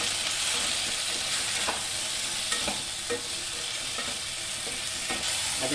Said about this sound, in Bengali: বাটাটা যেটা ছিল সেটা দিয়ে দিচ্ছি, দিয়ে একটু নাড়াচাড়া করে নেব।